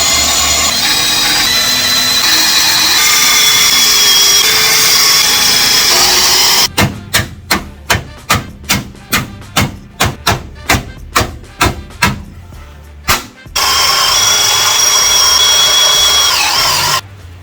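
Power drill cutting out spot welds on a 1989 Ford Mustang coupe's sway bar mount with an 8mm bit, loud steady whine broken into a fast series of about a dozen short bursts and thuds, then the whine resumes.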